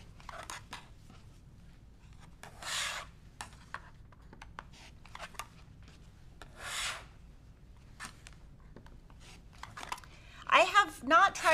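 A rotary cutter slices through quilt fabric at a cutting table, giving soft, close rasping strokes in short separate bursts, with a voice speaking briefly near the end.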